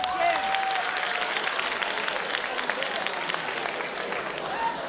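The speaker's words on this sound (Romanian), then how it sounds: "Aplauze, vă rugăm." Audience applause at a high school freshman ball at Colegiul Național Ștefan cel Mare in Suceava: loud, sustained clapping from a crowd, with a faint whistle or tonal squeal near the start and end.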